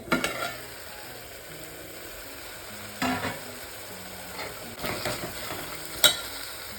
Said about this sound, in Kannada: ಇಲ್ಲಿ ಟೊಮ್ಯಾಟೊ ಕೂಡ ಬೇಯ್ತಾ ಇದೆ